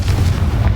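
A Confringo blasting spell explodes in Hogwarts Legacy as one short, loud, deep boom that fills the moment with a heavy low rumble.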